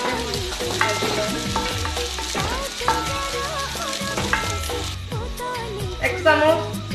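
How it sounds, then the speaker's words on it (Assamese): Onions frying in oil with cumin seeds in a home kitchen pan, a steady close sizzle with stirring scrapes, under background music. "পিঁয়াজখিনি অকণমান ৰঙচুৱা হোৱালৈকে মই ভাজি ল'ম।"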